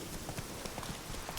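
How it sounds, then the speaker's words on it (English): Horse hooves clip-clopping in The Witcher 3: Wild Hunt, a steady rhythmic stream of close, moderately loud hoof falls on ground as the horse rides through a forest area near trees. "Riding a horse into a tree is no different."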